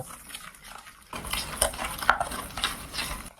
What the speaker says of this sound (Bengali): এবার এই চিনি গুঁড়ো আর ঘিটাকে আমরা ভালো করে ফেটিয়ে নেব